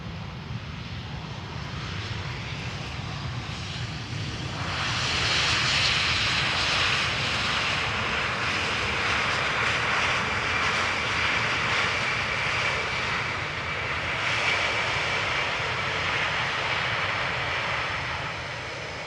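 Fixed-wing airliner landing at Amsterdam Schiphol Airport, a loud, steady broadband engine roar that swells after a few seconds and holds strong throughout, with no talk over it.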